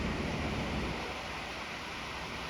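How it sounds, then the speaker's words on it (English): Ocean waves washing onto a sandy beach at Port Aransas, a steady broadband surf roar that swells loud at first and then settles into a softer, continuous wash, with no voices. "and some waves"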